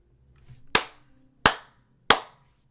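Three sharp, separate hand claps spaced roughly evenly apart, crisp and close in an otherwise quiet room.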